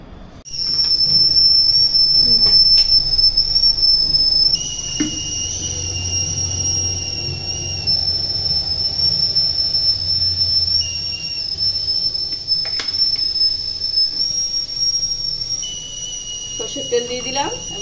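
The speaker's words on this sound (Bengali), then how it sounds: "আর আছে তার সঙ্গে নারকেল দিয়ে এটা একটা মিক্সার হবে" A mixer grinder whirs loudly with a high, steady whine while grinding coconut, garlic, chilli and ginger. It starts abruptly, then drops slightly and keeps running, with talking in the background.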